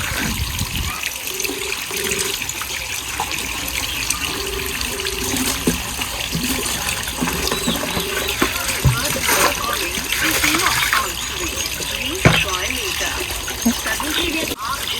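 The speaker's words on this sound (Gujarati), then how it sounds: "આ પાણી જતું રહે" Water runs and splashes steadily in a home setting, a continuous wash of trickling and spattering under frequent talk throughout.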